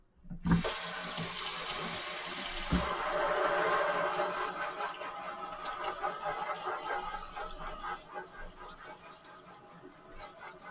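A kitchen tap gushes steadily as food is rinsed for honey chicken, a close, full water rush that gradually thins and becomes more uneven toward the end.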